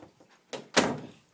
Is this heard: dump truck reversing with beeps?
no